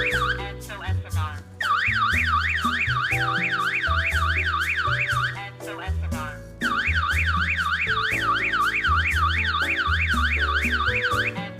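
Burglar alarm main unit siren blaring loud and close, a rapid warbling electronic wail that cuts out briefly and restarts, with beeps between.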